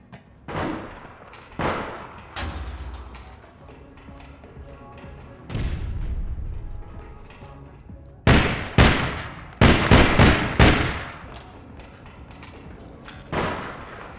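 Gunfire in APB Reloaded, with bullets fired through crates. Loud, close bursts and single shots come in irregular clusters, separated by quieter stretches.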